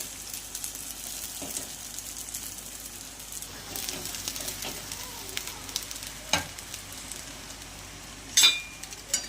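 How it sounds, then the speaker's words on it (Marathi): Soaked sago with a pinch of turmeric fries and sizzles in a pan, a steady soft hiss broken by occasional scraping stirs and clinks, heard alone and fairly quiet. "या स्टेजवर यामध्ये घालूया भिजलेला साबुदाणा"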